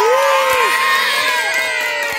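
Children and family audience cheering and shouting at a blindfolded cracker-eating contest, a loud continuous burst of high excited voices and whoops, close by and filling the short stretch.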